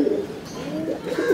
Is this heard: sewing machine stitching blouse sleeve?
no